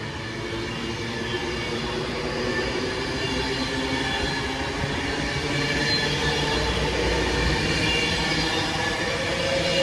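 A train heading out of Wigan North Western station towards London Euston, its steady roar and rolling wheel noise close by and unbroken, with a faint squeal riding over the rumble.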